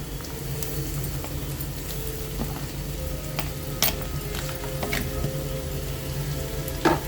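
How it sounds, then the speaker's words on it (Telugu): Sweet pumpkin appalu frying gently in ghee in a pan over low heat, with a steady soft sizzle and occasional light clicks and scrapes of stirring. "కొంచెం వేపుకుంటున్నాను"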